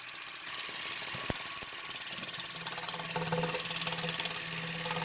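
An X-WAVES portable wireless water flosser running, giving a steady, loud mechanical rattle with rapid regular pulsing like a machine gun, continuous throughout.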